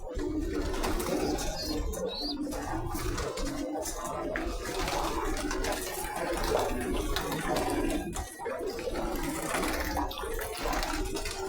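Pigeons cooing in a crowded pigeon farm in Saudi Arabia, a continuous dense murmur of overlapping low coos and wing rustles, steady and close, with faint background splashing.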